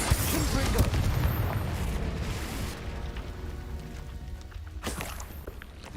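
The Confringo blasting spell goes off in Hogwarts Legacy: a heavy explosive boom with rumbling decay, followed by a second sharp burst near the end, with game sounds and faint movement underneath.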